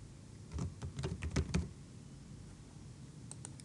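A name is typed on a computer keyboard during a software installation: a short, close cluster of key clicks for about a second, a couple of faint taps afterward, then quiet.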